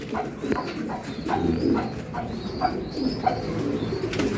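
Racing pigeons coo repeatedly inside a loft, soft rhythmic calls overlapping at moderate distance over a low steady background hum.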